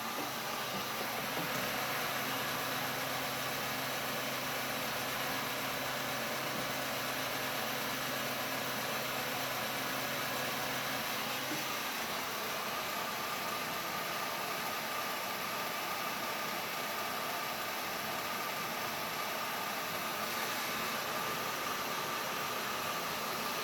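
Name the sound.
Pulsar 4500 watt generator engine running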